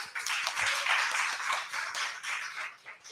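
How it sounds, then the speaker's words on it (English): An evening event audience applauds its speakers with a dense burst of clapping from many hands that swells and then tapers slightly, heard on its own at moderate distance. "please give a round of applause for your amazing speakers this evening"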